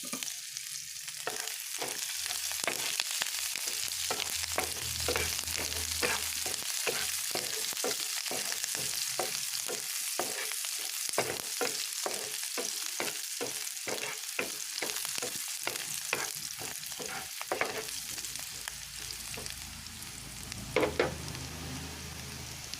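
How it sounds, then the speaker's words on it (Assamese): Chopped raw onions fry in a hot pan, a steady close sizzle broken by a quick rhythmic series of stirring scrapes and clacks across the pan, with no voices. "এতিয়া মই এইখিনি ৰঙচুৱা হোৱালৈকে অলপ ভাজিম, কালাৰটো চেঞ্জ হোৱালৈকে"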